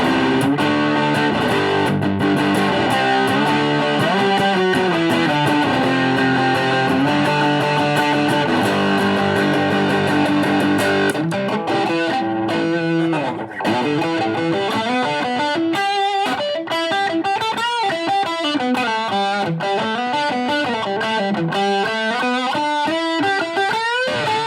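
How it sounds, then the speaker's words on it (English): Electric guitar through an MXR Doubleshot distortion pedal plays a gritty chugging rhythm part, then a tighter, saturated lead line rises over it, loud and continuous with no voices. "Rhythm and lead, MXR distortion."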